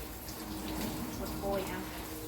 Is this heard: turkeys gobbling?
no